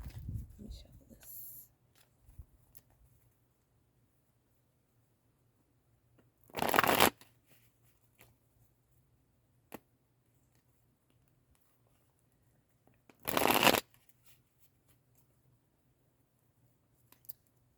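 Two sharp bursts of cards being shuffled, each about a second long, separated by quiet stretches with a faint low hum and a brief rustle at the start.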